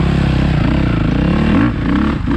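A Suzuki RMZ450 dirt bike engine revs hard and loud up close, a raw buzzing roar with rising pitch that dips briefly near the end, continuous and dominating with no talk.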